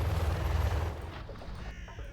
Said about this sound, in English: Oh, I hear a new cannon. Big new cannon.